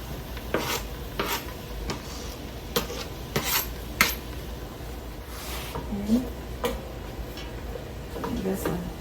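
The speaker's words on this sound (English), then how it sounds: "I'm going to add this in with the beef and the onion." A wooden or metal spoon stirs chili with ground beef, onion and celery in a cooking pot over medium heat, giving soft scraping and clinking sounds in irregular strokes, fairly quiet and close against a low background hum.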